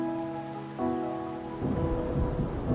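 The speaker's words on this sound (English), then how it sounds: "Amid howling winds, rising storms, and ghosts adrift" Storm in the video game Wuthering Waves, with a steady rumble of rain and thunder building under sustained musical tones, growing louder toward the end.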